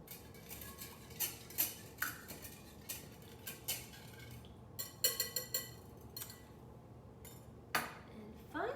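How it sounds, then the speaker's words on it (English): Metal whisk clinking and scraping against a bowl while vanilla extract is stirred into a cinnamon roll batter, a series of close, irregular light taps and chinks with brief pauses. "I'm just going to whisk that in"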